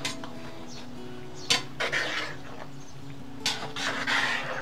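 Metal utensil clinking and scraping in a skillet of shakshuka with sausages over a campfire, a few sharp knocks against a steady low background hiss of frying.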